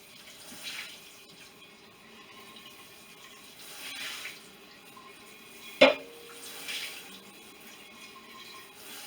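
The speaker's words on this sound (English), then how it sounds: "We finish up washing up this jar" Glass jar washed under a running kitchen tap, a quiet, steady trickle of water with soft swells of splashing and one sharp clink of the jar partway through.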